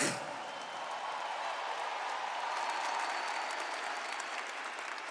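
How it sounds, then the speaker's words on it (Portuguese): A church congregation breaks into sustained, even applause during a sermon, a dense, loud wash of clapping that holds steady for several seconds without speech. "Prepara para aplaudir."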